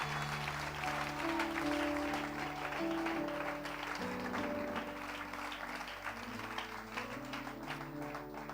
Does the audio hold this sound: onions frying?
no